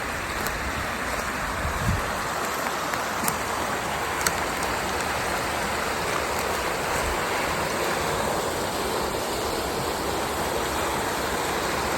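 A flooded creek swollen high rushes past in a loud, continuous roar of churning water, close and unbroken throughout with no voices.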